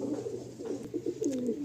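Pigeons coo close by in a loft, soft throaty calls overlapping in a brief, continuous burble with no talk.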